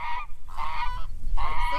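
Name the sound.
geese honking on a homestead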